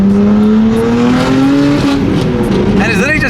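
A tuned Nissan R33 Skyline GT-R with only a downpipe and tune pulls hard, its loud, close engine note climbing steadily before shifting, and a voice joins near the end.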